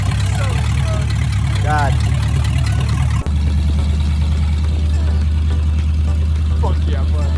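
A project car's engine runs choppily on a test drive, a close, uneven idle-like chugging that persists throughout, with a brief exclamation from a voice partway through.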